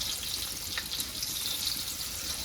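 Steady, fine crackling sizzle of pomfret fish frying in a shallow layer of oil in a pan, close and continuous with no talk.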